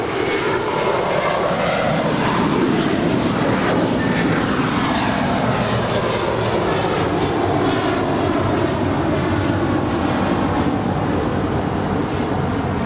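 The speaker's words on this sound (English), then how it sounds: "That is a minty fresh JetBlue 624 off to JFK, a 5-year-old A321." A five-year-old JetBlue Airbus A321 departing LAX for JFK roars loudly and close, its engine noise sweeping in pitch as it passes and holding strong the whole time, with no voices.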